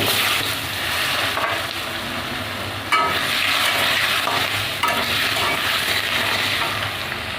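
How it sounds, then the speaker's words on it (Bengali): Continuous hissing sizzle of potatoes frying in oil previously used to fry fish, with a few stirring bumps and no talking. "এবার আলুগুলো ভেজে নেব"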